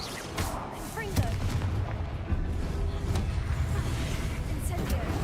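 A fiery blast from the Confringo spell in the video game Hogwarts Legacy booms among a steady din of magical combat noise, with bursts and impacts sounding throughout at close range.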